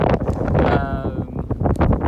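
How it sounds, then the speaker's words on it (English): Strong, cold wind buffets the microphone in a steady low roar near a lighthouse, with a faint whistling tone rising briefly over the rushing noise. "it's very cold and windy"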